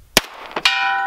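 A 1911 pistol fires at an oxygen tank inside a car, with a sharp crack, then a second shot followed by a ringing metallic clang that hangs on after the hit.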